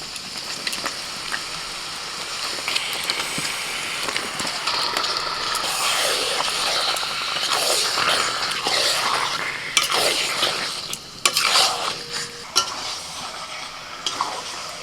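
Chicken coated in salt, turmeric and mustard oil fries in a pan, a continuous close sizzle with repeated stirring and scraping of a utensil against the metal and no voices.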